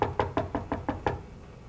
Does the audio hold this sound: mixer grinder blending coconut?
no